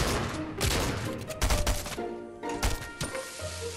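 Rapid bursts of gunfire crack and rattle in the video game Fortnite, loud and close with irregular volleys mixed with other game sounds throughout.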